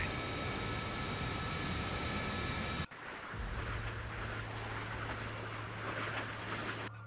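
A bomber aircraft flies low at about 1,000 feet in the Sea Power naval warfare game, a loud steady engine roar that cuts off abruptly and gives way to a lower, rougher rumble with a droning hum.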